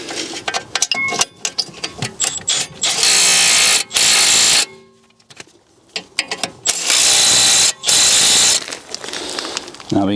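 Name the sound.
reinstalling BMW brake caliper bracket with 18mm hex bolts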